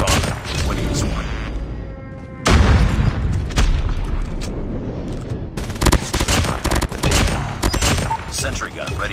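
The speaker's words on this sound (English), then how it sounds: "Airstrike incoming." Explosions from an airstrike in Call of Duty Mobile boom loudly, mixed with bursts of rapid gunfire and heavy crashes that carry on through the scene.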